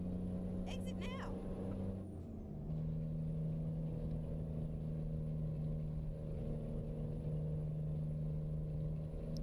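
Truck engine in a driving game with a mild exhaust rasp, a steady low drone running throughout with a brief tonal shift midway, while someone talks over it.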